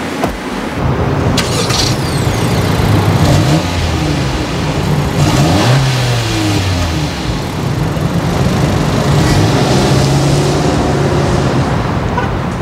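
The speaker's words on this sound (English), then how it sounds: "Now for the fun part, let's take the 2020 Honda CR-V that Mercedes-Benz of Los Angeles and Rafael" 2020 Honda CR-V compact SUV driven on the road, its engine revving and accelerating steadily with road and tire noise throughout, loud and close.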